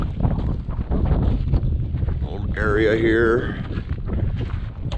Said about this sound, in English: Sorry about the wind, it's been a windy day.